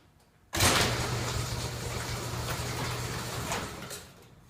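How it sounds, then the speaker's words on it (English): A garage door rolls open with a sudden loud start, a steady grinding rumble lasting a few seconds, then fades as it stops. "I'm going to open up the door so we don't breathe the fumes."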